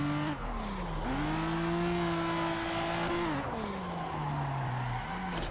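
A car doing a sideways fourth gear burnout in the Assetto Corsa video game, engine droning steadily with rising and falling pitch under a continuous loud tire squeal, close and alone.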